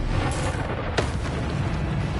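Bombarda blasting-spell explosion in Hogwarts Legacy, a single loud boom in the middle of a dense, continuous roar of game effects.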